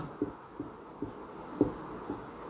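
Chalk or marker strokes on a classroom board, a series of soft irregular taps and scratches spaced about half a second apart, fairly quiet and close, with no talking over them.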